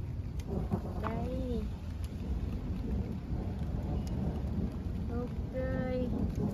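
Thunder rumbles and rain begins falling over a garden outdoors, a steady wash of rain with low rolling thunder, while people talk over it.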